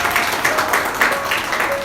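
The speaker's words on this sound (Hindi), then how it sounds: "सर के लिए भी तालियां।" Applause at a school felicitation ceremony honoring an Urdu teacher, a steady patter of clapping held at an even level for a couple of seconds, somewhat diffuse and mixed with faint background voices.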